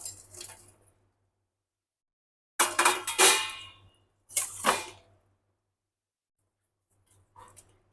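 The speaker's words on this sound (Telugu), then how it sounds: "ఇప్పుడు ఇందులో నేను ఈ ముక్కలన్నీ మిక్స్ చేస్తున్నాను" Chicken pieces are mixed through oil for a chicken pickle, giving three loud bursts of clattering, squishing stirring separated by silences, then a faint brief stir at the end.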